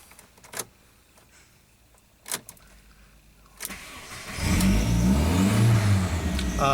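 Volkswagen Jetta 1.8T engine with a throttle fault revving up on its own. A few sharp clicks come first, then at about four seconds a loud, steady engine roar starts and holds to the end, with no talking.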